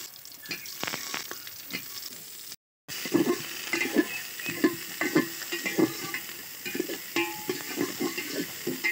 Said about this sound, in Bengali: সয়াবিনগুলা বেশ ভালোভাবে লাল লাল করে ভেজে নিচ্ছি